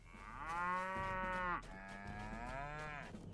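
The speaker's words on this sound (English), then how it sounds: "Notice the cows don't attack her on sight." Cattle moo in the video game LOTRO, set on a homestead in Dunland: two long, deep, drawn-out lowing calls back to back, loud and close with a brief break between them.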